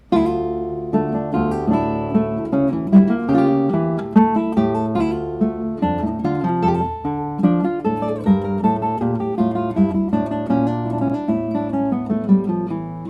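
A classical guitar plays a steady, plain melody with bass notes, evenly plucked with little variation in dynamics or phrasing.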